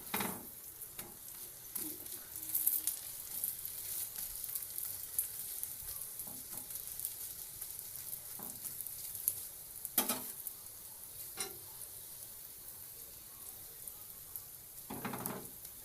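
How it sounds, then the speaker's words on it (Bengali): A paneer paratha sizzles steadily as it fries in a pan, a constant hiss with occasional sharp scrapes and taps from turning it, and no voices. "পরোটাটা ভাজছি বন্ধুরা।"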